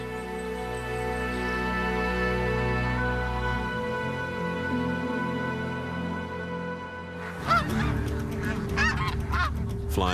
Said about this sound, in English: Flying in on empty, the geese touch down inside the Arctic Circle.